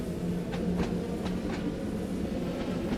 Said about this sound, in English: This is the old train.